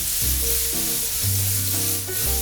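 Mushrooms and a cut chili pepper sear in a pan with a dense, loud, continuous hiss, while a low tonal hum shifts pitch underneath throughout.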